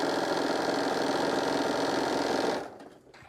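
A sewing machine hums loud and close, stitching stretchy cut fabric strips onto a shoulder wrap in one continuous run before stopping abruptly near the end.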